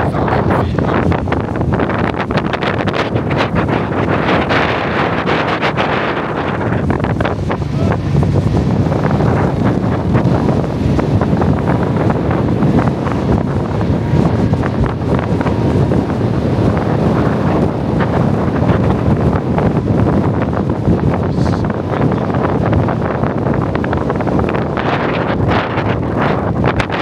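Strong, steady wind at Crater Lake National Park, close to 8,000 feet up, roars and buffets loudly throughout, with heavy gusting noise and no pauses.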